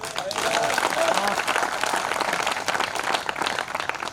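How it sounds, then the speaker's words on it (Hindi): A crowd at a Hindi comic poetry gathering at a fair claps loudly and continuously, producing a dense wash of applause with voices mixed in throughout. "ये कोई ताली बजाने की बात नहीं थी।"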